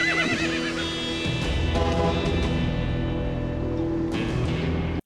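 A wild horse in the Man Vs Wild Wii game gives a loud, drawn-out whinny, followed by snorts and nickering over a busy game soundscape with faint hoof sounds.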